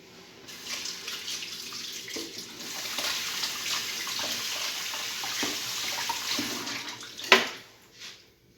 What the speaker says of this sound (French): Je vais me laver les mains et je reviens.